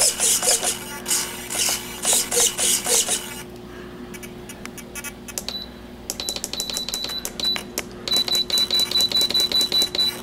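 Small servos on an E-flite P-40 Warhawk 300 model plane drive the rudder and elevator in quick bursts of high whirring buzzes. The bursts are close and loud, with a short quieter stretch partway through.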